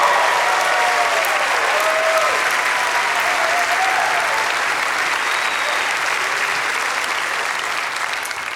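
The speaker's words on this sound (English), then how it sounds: "Don't stop clapping. Keep it going" A large audience at the Ryman claps loudly and continuously for a concert's opening act, a dense, sustained wash of applause that tapers slightly at the end, with a voice faintly audible beneath.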